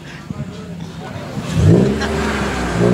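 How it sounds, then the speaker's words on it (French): Drift and rally cars at a drift day in Roche-la-Molière, with an engine revving up loudly and holding a rising roar after a stretch of nearby talk and background commotion. "avec ces magnifiques voitures, donc du drift et des voitures de rallye"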